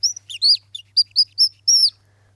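Bird-call whistles played in a musical nap show for babies and their parents give a quick series of bright, close chirps and tweets, loud and clear with nothing else behind them.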